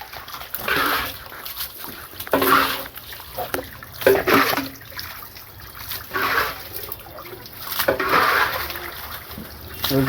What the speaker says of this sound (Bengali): মোটরটা ছেড়ে দিচ্ছে পাইপ দিয়ে পানি আসতেছে